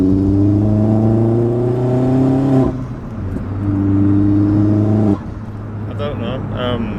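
A turbocharged car engine drones loudly at steady revs, cutting out briefly twice before picking back up, with a whistling boost tone near the end.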